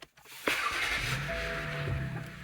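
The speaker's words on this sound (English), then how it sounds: "you're going to come into your vehicle and you're going to start it up and then run it" A 2011-2017 BMW X3 F25 engine starts: a brief starter crank, then the engine catches and settles into a steady idle, recorded close with no talk.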